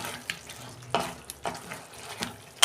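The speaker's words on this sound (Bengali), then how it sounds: "গ্যাসের ফ্লেমটা আস্তে করে একটু নাড়াচাড়া করতে হবে, নাহলে নিচে লেগে যাবে" A spatula stirs cauliflower curry with cashews, raisins and nuts in a pan over a low flame, soft scraping strokes in an irregular rhythm over a faint, quiet sizzle.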